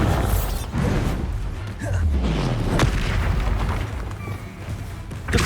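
A Bombarda explosion spell erupts in the Hogwarts Legacy video game, a deep boom rolling under busy combat effects during a rapid spell-casting fight.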